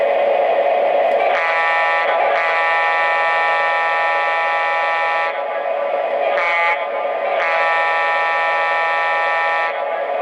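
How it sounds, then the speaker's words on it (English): A loud, sustained multi-tone horn from an Atlas O scale model F3 diesel locomotive blares in several long blasts separated by brief breaks, with a constant low mechanical hum underneath. "let's give a listen to the horn."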